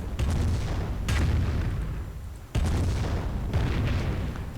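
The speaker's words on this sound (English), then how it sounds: "Grenadiers pulling in but blowing up their own cover." Explosions in a World War II strategy game as grenadiers blow up cover, heavy booming blasts with a loud rumbling wash, a fresh sharp detonation partway through, layered over continuous battle din.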